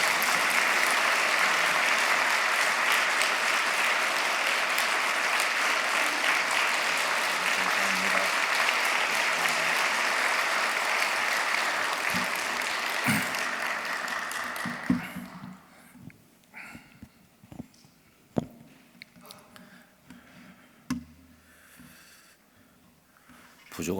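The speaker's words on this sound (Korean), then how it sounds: "우리 목사님 나오실 때 큰 박수로 환영하겠습니다" A church congregation applauds to welcome the pastor to the pulpit at a Korean service, a dense, steady wash of clapping that fills the room for about fifteen seconds, then breaks into scattered claps and rustles before fading.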